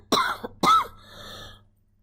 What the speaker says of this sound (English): Apologies for my coughing.